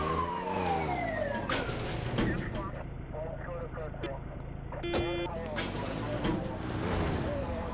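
Ambulance siren in the video game GTA 2, wailing and sweeping tones mixed with game engine and effect sounds, while a player talks over it throughout.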